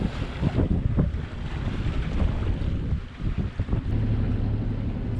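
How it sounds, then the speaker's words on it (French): A sailboat motoring under engine power among the Cape Verde islands, chugging along with wind buffeting the microphone and water sloshing around the hull. "on finit au moteur pour rejoindre le mouillage"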